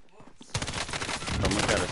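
Gunfire in an online shooter video game erupts after a brief quiet moment, a dense, loud barrage of rapid shots that continues steadily to the end with no pauses.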